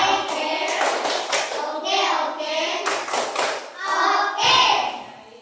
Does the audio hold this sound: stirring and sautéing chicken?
no